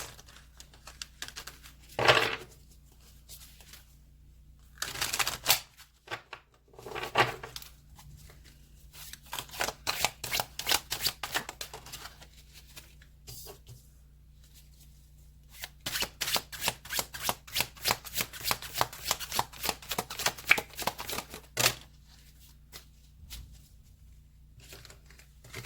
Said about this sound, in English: I'm just going to shuffle some cards here